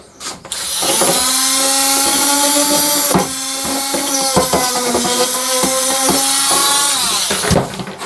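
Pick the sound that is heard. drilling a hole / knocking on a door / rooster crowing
drilling a hole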